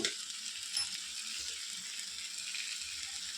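Ginger garlic paste sizzles in hot oil in a pan for an okra curry, a constant bright frying hiss, close and moderate, with a brief metallic clink near the start and no speech.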